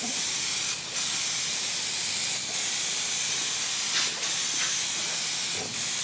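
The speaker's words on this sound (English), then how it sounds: "Hold the can like this so the fan hits even, because you spray it like this, just like spray paint." An aerosol can sprays headliner adhesive in several long, loud hissing bursts separated by short pauses, close to the listener, with no talking.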